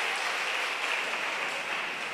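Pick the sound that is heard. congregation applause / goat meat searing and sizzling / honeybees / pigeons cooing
congregation applause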